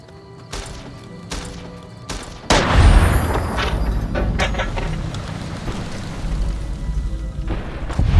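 Gunfire in Fallout: New Vegas: a few sharp, separate shots ring out first, then a heavy blast opens into a loud, sustained barrage of booming shots and crashes.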